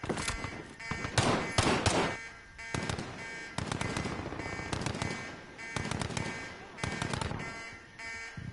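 Heavy automatic gunfire while taking fire rattles in dense, repeated bursts almost without pause, loud and close, with no speech.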